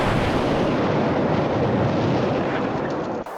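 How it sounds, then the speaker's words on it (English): A heavy section of a collapsing bridge's center span crashes into the water, a loud, dense roar that holds for about three seconds and then cuts off abruptly. "It hits the water with a sound witnesses described as a cannon shot."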